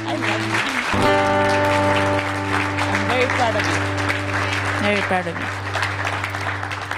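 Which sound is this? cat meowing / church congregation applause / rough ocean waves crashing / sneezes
church congregation applause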